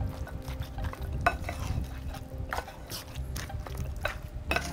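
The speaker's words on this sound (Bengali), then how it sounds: "দর্শক, আমরা এটাকে ভালো করে এখন মিশিয়ে 30 মিনিটের জন্য ম্যারিনেট করে রাখব।" Spiced beef being mixed by hand for an achari beef marinade in a home kitchen gives off soft, wet squelching and stirring sounds, with a few light clicks against the bowl and steady kitchen background throughout.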